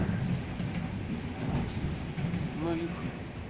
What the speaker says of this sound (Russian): Добавляются эти электрички из славного города Торжка